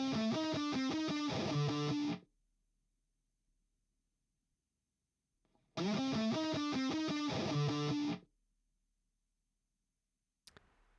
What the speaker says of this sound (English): I'd rather hear the fuzz face, actually.